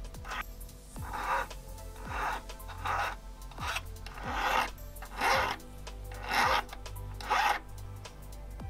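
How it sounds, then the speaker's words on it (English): Hand file rasping back and forth over soldered gold prongs on a gold ring, about ten steady close strokes in an even rhythm with no talk. "begin filing the soldered prongs so they blend in with the ring."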